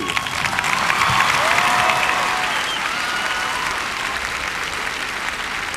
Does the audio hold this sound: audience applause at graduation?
yes